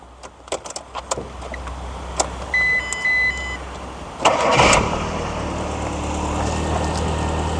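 A Rover 214 car engine cranks briefly then catches and settles into a steady, quiet idle, preceded by a few clicks and electronic chimes.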